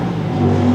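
A passing motor vehicle revs up nearby, a steady mid-pitched engine drone swelling slightly louder toward the end of the brief sound, with no talking.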